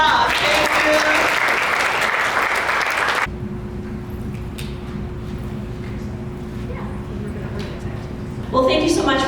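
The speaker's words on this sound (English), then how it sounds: "give yourself a round of applause" A graduate kickoff audience breaks into loud, dense applause for a few seconds, then it cuts to a quieter room with a low hum and faint noises, before a brief burst of sound near the end.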